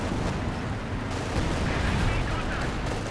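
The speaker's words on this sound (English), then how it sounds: "There's the third artillery cover here." Artillery barrage in the Company of Heroes 2 strategy game, a dense continuous rumble of booming impacts and gunfire lasting throughout, loud and steady with some talk beneath.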